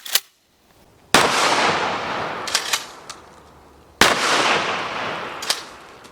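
Remington Model 870 shotgun firing a target load and then buckshot at 15 yards outdoors, two loud sharp blasts about three seconds apart, each with a long rolling echo, plus a few fainter cracks.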